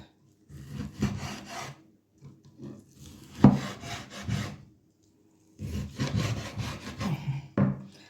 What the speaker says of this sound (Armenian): Սենց կտրտենք։